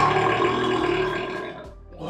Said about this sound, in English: I dedicate this next burp to you,